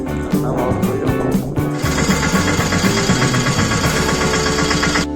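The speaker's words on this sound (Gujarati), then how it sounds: "ટ્રેક્ટર આખું ભરાઈ ગયું છે." A tractor engine idles with a steady mechanical chugging and rattling beat, becoming brighter and busier partway through, heard close with no clear talk over it.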